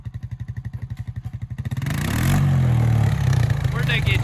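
A four-wheeler ATV engine idles with a rapid, even chug, then revs up into a loud, sustained roar close by, with a voice heard over it.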